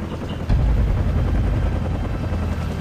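Helicopter in the Call of Duty 4: Modern Warfare video game, a loud steady rotor roar that surges in abruptly and holds throughout without speech.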